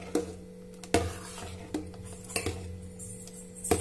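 A spoon stirs juice made with lemon juice and water in a vessel, giving a series of sharp clinks against the container at an irregular rhythm, close and fairly quiet.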